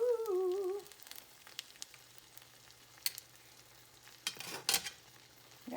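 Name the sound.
stirring lobster and shrimp pasta into Alfredo sauce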